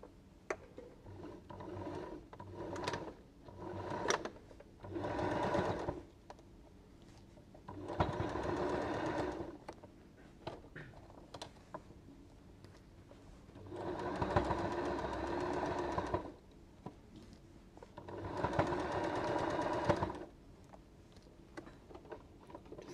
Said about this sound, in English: you're just going to run a stay stitch line along here so you can take those pins out in a sec